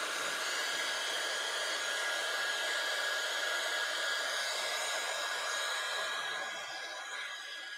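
A hair dryer runs steadily and close by, drying watercolour paint on paper, a constant whooshing blow that holds for the whole stretch and eases slightly near the end, with no talking.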